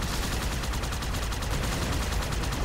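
Sustained gunfire in the game Halo 2, a dense, steady stream of loud shots running without pause over a busy mix of game sound.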